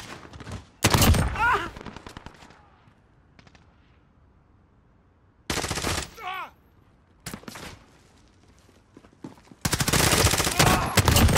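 Bursts of automatic gunfire from the Call of Duty Modern Warfare video game, several loud sustained volleys separated by quieter gaps, with some radio-style voice callouts between them.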